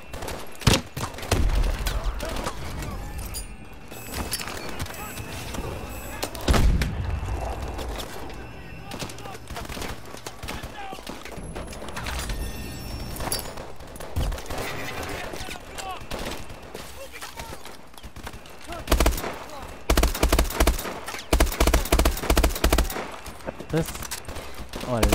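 Burst-fire gunshots in Call of Duty: Advanced Warfare, with sharp clustered volleys repeating across the scene over game effects, loudest in rapid bursts near the end, with a player talking throughout.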